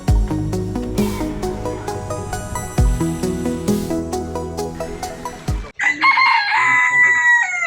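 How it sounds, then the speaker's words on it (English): Several chickens cluck and a rooster crows loudly and close, in repeated bursts in an outdoor park, with a sharp change in the surrounding sound near the end. "I am back at the chickens"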